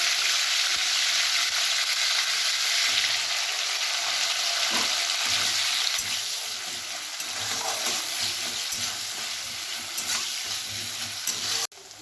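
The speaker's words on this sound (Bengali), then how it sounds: "ফোড়নটা একটু ফুটে আসলে, একটু চড়বড় করে আসলেই আমি এতে দিয়ে নেব পেঁয়াজের টুকরো" Onion pieces frying in hot oil with tempered whole spices, a continuous bright sizzle with occasional utensil clinks, tapering slightly toward the end before a sharp knock.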